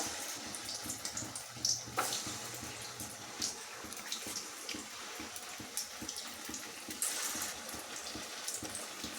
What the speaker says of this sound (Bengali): ছানার বড়াগুলা ভেজে নিচ্ছি